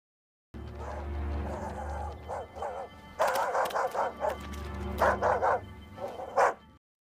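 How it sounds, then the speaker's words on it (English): A plain, ordinary dog barks in repeated bursts of bow-wows and yips, fairly close and loud, with a few whimpering notes and a steady low background hum running underneath. "That's just a freaking dog."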